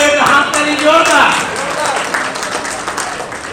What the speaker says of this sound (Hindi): इनके मुस्कुराहट पर एक हाथ ताली जोरदार